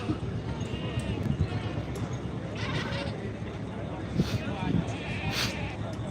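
Goats bleat at a livestock show competition ring, their faint, scattered calls mixed into a dense background of crowd noise and talking, with occasional hoof-like clatter.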